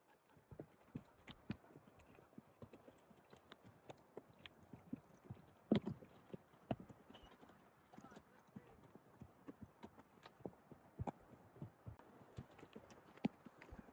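Horse hooves clip-clopping steadily on a wilderness trail with a string of horses, irregular close thuds and knocks throughout, with someone talking quietly over them.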